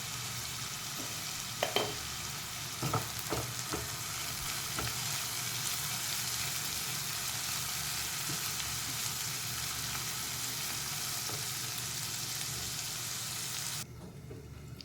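Onions with a little sugar frying in a pan give a steady broadband sizzle for most of the stretch, with a few stirring clatters near the start, before cutting off abruptly near the end.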